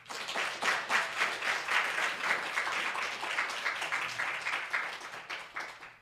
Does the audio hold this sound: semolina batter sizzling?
no